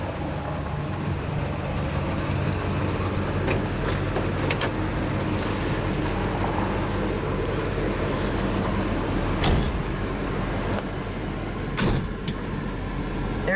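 A 1970 Buick GSX 455 muscle car cruises along, its deep engine rumbling steadily from inside the cabin with occasional clicks and thumps over the road.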